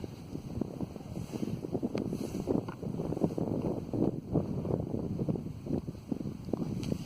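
Chilly outdoor wind buffeting a microphone, giving a continuous, close, rumbling gusty roar that rises and falls, with no voices.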